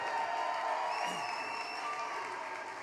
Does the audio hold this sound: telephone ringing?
no